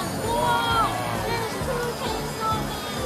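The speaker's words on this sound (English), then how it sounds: "There's a crowd." Busy babble of a crowd at an anime convention in Hong Kong, many overlapping voices close by forming a steady hubbub with occasional nearer speech rising out of it.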